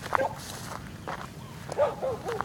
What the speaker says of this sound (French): Alors les chiens se mettent à aboyer